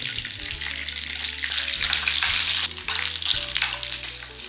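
Urad dal, cumin and a dried red chilli hit hot oil, giving a steady loud hissing sizzle that swells and dips with stirring, alone without talk.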